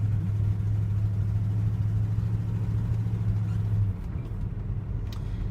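A 1971 Oldsmobile Cutlass engine runs smoothly without stuttering, a steady low rumble and hum heard up close. The hum drops slightly partway through while the idle continues.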